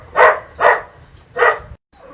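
A pet dog barks in a kitchen: three sharp, close barks, the first two quickly paired and the third after a short pause, followed by a faint soft yip against a quiet background.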